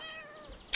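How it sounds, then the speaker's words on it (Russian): A cat meows in the game Brothers: A Tale of Two Sons, one short tonal mew followed by a brief sharp click at the end. "Мяу, говорит!"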